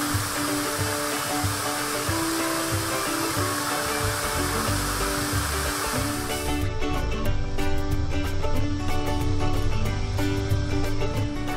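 Grojogan Lepo waterfall in Bantul, Yogyakarta, roars as a dense, continuous broadband rush of falling water, loud and steady throughout, with faint music-like tonal layers entering partway.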